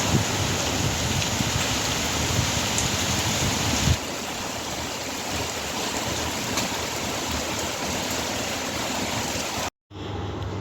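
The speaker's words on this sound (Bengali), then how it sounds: "বাইরে হচ্ছে বৃষ্টি আমি একটু বৃষ্টি দেখে আসি" Steady rain pours down in a continuous dense hiss, unbroken except for a brief cut near the end, with no voices.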